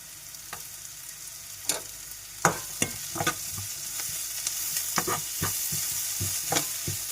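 Carrot and other vegetables for rava upma sizzle in a hot pan while a spoon scrapes and stirs in scattered clicks, close and fairly quiet.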